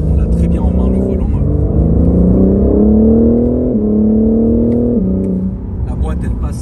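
BMW M4 Competition under way: a loud engine drone climbs steadily in pitch, drops sharply at each quick gear change, then climbs again, heard from the cabin with speech over it.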